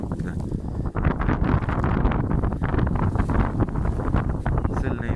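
Strong gusty wind buffets the microphone in a continuous rough roar, with no voices breaking through.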